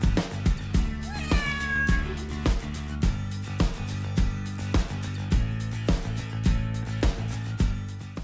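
Two pet cats, a mother and her daughter, meow repeatedly in a loud, close series of drawn-out, insistent calls, with no talk over them.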